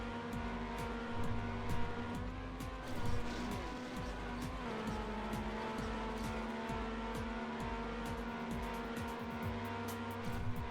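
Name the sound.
car driving and sliding in Trackmania video game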